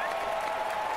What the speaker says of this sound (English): Add applause.